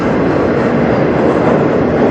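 A CN freight train carrying auto racks passes close by on the Strathroy Subdivision, a loud, steady rumble of rolling cars and wheels with no talking.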